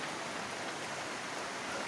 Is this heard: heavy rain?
yes